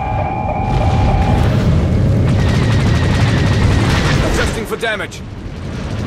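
A missile strikes during a space dogfight in the Star Wars game Galactic Starfighter, a heavy rumbling blast with crackling debris and laser fire, while a voice speaks over it.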